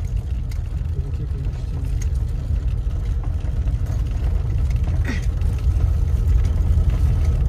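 A VAZ 2106 driving, heard from inside the cabin, gives a steady, loud low engine and road rumble that continues unbroken throughout.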